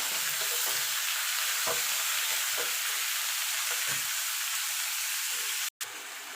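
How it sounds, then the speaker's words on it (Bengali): Ridge gourd frying in a pan while being stirred, a constant close sizzle with a few soft scraping strokes of the spoon and a brief cut-out near the end. "এবার এটাকে আমি ঢাকা দিয়ে মিনিট 2 নাড়াচাড়া করে নেব।"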